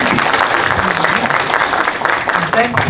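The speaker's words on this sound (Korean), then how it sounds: "박수 부탁드립니다" Applause from a film screening audience at a premiere talk session, scattered clapping mixed with a speaking voice and crowd noise, fairly close and loud.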